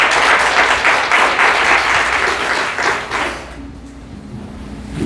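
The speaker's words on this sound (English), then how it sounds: "Let's give our ushers a round of applause." A church congregation applauds the ushers with loud, lively clapping that fades away in the last second or two, leaving a quieter room.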